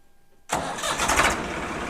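A tractor engine, offered for sale in a Punjab village, cranks on its self-starter and catches abruptly, then runs at a rough, loud, close idle with a steady chugging throb.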